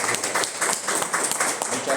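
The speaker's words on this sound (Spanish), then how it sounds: "un aplauso para Sher" An audience claps for a guest speaker at a cultural talk, steady dense applause over two seconds with a voice speaking over it.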